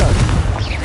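Confringo blasting curse explosion in the Hogwarts Legacy video game, a loud, close booming blast that rumbles deep and then tails off quickly within a second.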